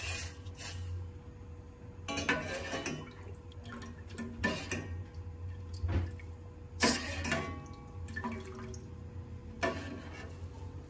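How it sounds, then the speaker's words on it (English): A spoon stirring jelly powder and milk together in a heated pot, with repeated scraping and clinking strokes at an irregular pace over a low steady hum. "Stir and stir."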